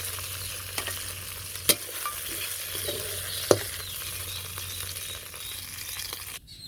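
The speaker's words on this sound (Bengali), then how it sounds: "দুই মিনিটের মতো ভাজলাম হয়ে গেছে এখন নামিয়ে নিই" Fish frying in a pan in a Bangladeshi village kitchen, a soft continuous sizzle with a couple of sharp utensil clinks, close but fairly quiet, no talking.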